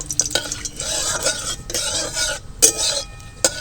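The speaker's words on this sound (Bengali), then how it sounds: "ফোড়নে আমি নিয়েছি একটু শুকনো লঙ্কা, তেজপাতা আর গোটা গরম মশলা দিয়ে দেবো। ফোড়নটা একটু ভেজে নেব।" Whole dry red chillies, bay leaf and whole garam masala are tempered in hot oil, with spoon stirring and clinks against the pan. Occasional sharp metallic knocks rise over a low background sizzle, and no one speaks.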